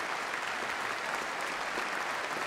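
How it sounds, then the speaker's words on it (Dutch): A concert-hall audience gives a standing ovation after a Franck piano quintet performance, with dense, steady applause sustained throughout at moderate, distant level. "We zijn weer terug op het podium voor meer applaus."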